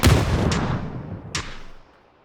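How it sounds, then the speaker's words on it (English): A grenade blast in the shooter game PUBG: a loud, booming explosion at the start that decays into rumble, with a second sharp crack about a second later, no voices. "And he got grenaded"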